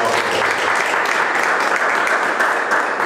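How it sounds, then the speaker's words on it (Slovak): A congregation at a church service applauds a worship team, a steady, loud, even wash of many hands clapping that carries on for a few seconds without letting up. "Tento potlesk je pre oslavný tím"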